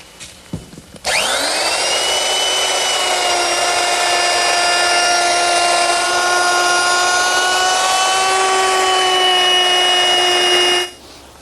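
A power tool rounds the top and bottom edges of a wooden desk top to a half-inch radius. It spins up with a rising whine, then holds a loud, steady, high tonal hum for about ten seconds before cutting off.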